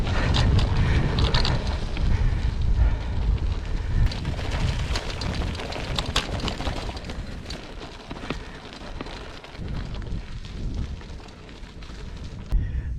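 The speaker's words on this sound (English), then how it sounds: "Oh, it's windy. Into the wind now, I don't know if you can hear that." Wind roars across the microphone during a bike ride, a loud, continuous low buffeting with rough gusty surges that ease slightly toward the end.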